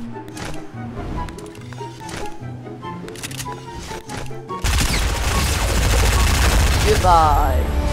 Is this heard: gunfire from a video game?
yes